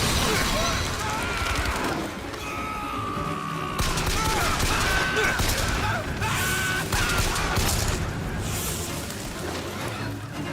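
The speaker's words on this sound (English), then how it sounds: "Shotguns." Shotgun blasts and gunfire in the first-person shooter BioShock Infinite, dense and continuous with explosive bursts, mixed with game music and effects and a voice talking over the action.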